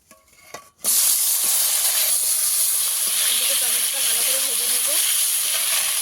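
Tomatoes dropped into hot oil for a Bengali fish curry, a sudden loud, steady broadband sizzle that erupts after a brief quieter moment and hisses on continuously.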